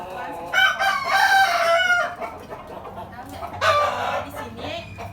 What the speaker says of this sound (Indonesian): di sini ada ayam di sekitar rumah Adik ada ayam